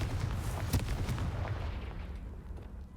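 The Confringo blasting spell explodes in Hogwarts Legacy as a loud booming burst with a rumbling low tail that fades over a few seconds, with no talk.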